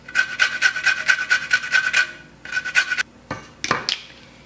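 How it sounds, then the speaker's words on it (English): Lemon zest being grated, a run of quick, rhythmic rasping strokes up close, followed by a pause, a few more strokes and some scraping taps, with no talk. "I'm also adding the lemon zest."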